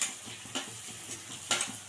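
Onions sautéing in a pan with four green chilies and ginger-garlic paste for a Kerala fish fry, a soft steady sizzle broken by a few sharp stirring scrapes of the spoon against the pan.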